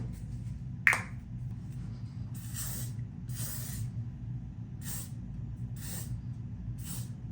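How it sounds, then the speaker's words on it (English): Fido Paris Workable Holding Spray hairspray is released from an aerosol can in six or seven short, crisp hissing bursts with brief pauses between them, close by in a quiet room. "Workable Holding Spray."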